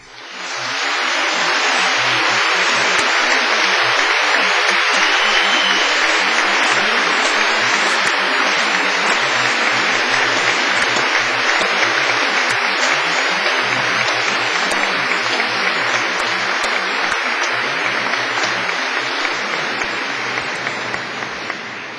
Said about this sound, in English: giving them all an enthusiastic round of warm applause